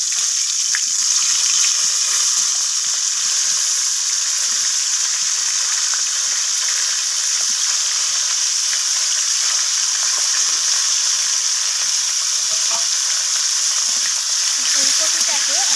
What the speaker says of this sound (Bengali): ফুলকপিটাকে আমি লালচে করে ভেজে নেব